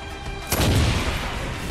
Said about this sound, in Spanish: Una explosión por ahí.